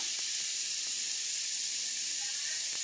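Water poured into a hot pan of shrimp and bell peppers sizzles with a loud, steady steamy hiss, broad and close throughout, with a few faint clicks underneath.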